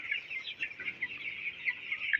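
A flock of 18-day-old broiler chickens clucks and peeps continuously, many soft overlapping calls at close range with no pauses and no talking.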